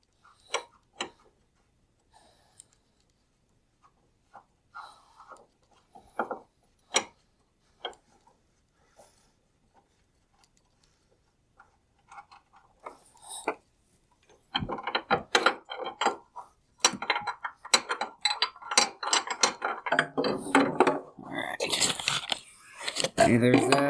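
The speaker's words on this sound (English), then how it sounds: "Alright, so we're gonna pull that bolt off." A wrench ratchets and clicks while a bolt is removed from the oil pan of a 2006 Honda Accord, sparse metallic ticks at first, then denser rapid clicking and clanks close by.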